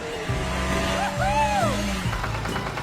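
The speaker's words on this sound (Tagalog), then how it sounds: "Mabilis na umandar ang kotse." A shiny red cartoon car revs and speeds off, its engine note rising and sliding under a bright musical backing with swooping tones, loud and continuous throughout.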